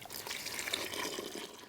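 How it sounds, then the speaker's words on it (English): Water running into a bucket for washing game bags, a steady moderate splashing and trickling stream that holds an even level from start to finish, heard alone. "I'm going to fill this bucket up with a little bit of water"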